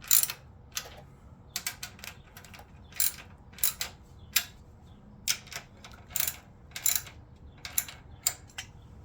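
A ratcheting wrench snugs down new fasteners on the water pump of a 1975 Honda GL1000 Gold Wing, sounding as bursts of quick, close metallic clicks separated by short pauses, with no talk over them.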